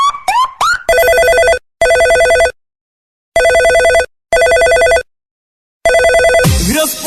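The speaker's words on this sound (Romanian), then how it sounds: "Răspunde la telefon, la telefon, la telefon." An old-style telephone bell rings loudly in repeated bursts of about a second with silent gaps, after a few short electronic chirps, ending in a brief clatter as the receiver is picked up.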